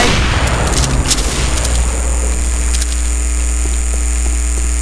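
Sniper rifle shots from the Roblox shooting game Weaponry: a couple of sharp cracks early on, then steady game ambience with a low drone and faint scattered clicks, no talking.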